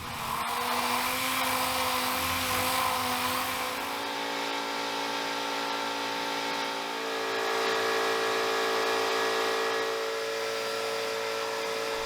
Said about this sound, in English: the first step is sanding it all down